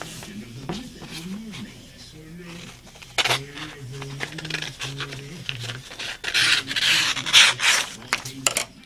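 Scissors snip and rasp through a sheet of origami paper while folding a flapping bird, with repeated scratchy cuts under a person talking nearby.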